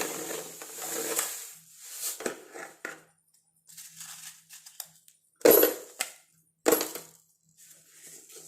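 Mustard seeds go into a pan of sesame oil for a gooseberry pickle, giving sharp, close crackles and rattles in scattered bursts with quiet gaps between.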